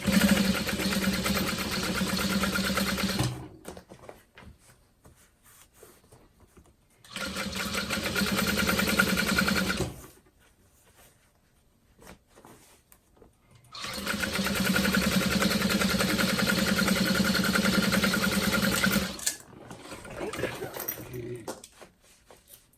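A sewing machine back stitches a zipper onto a handbag in three long bursts of steady motor whir, with quiet pauses between them.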